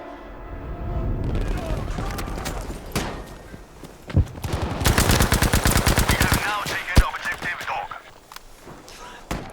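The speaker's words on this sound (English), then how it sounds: "I want to go with the good old classic MP40." An MP40 submachine gun fires in Battlefield V with rapid bursts of automatic fire, loud and close, over game ambience and distant battle noise, with stretches of continuous rattling.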